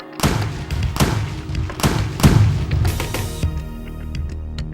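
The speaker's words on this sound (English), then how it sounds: "The order to fire is given, followed by an enormous boom and a body-jolting shockwave." Several heavy booms and thuds in quick succession from historic cannon firing at Fort Pulaski, each with a rumbling low tail, followed by a fading reverberant rumble.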